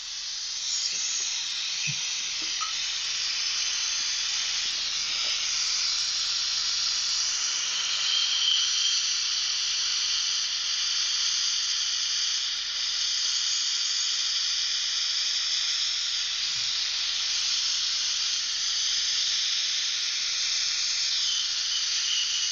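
Steam escapes from a car radiator in a continuous bright hiss that holds steady for the whole stretch, heard close with no voices.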